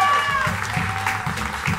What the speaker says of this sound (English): And then a big round of applause and thank you for this venue